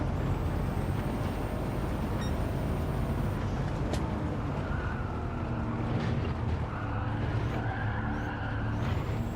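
Car engine roaring steadily in a racing video game, with brief tyre squeal and braking noises breaking through the continuous loud drone, no talk over it.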